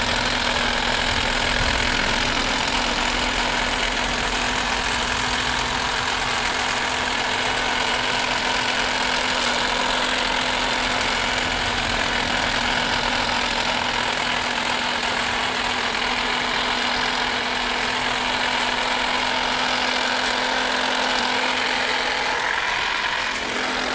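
A VEVOR 20V cordless hedge trimmer with an 18-inch blade runs steadily while trimming a bush, giving a loud, continuous buzzing, chattering drone with no speech.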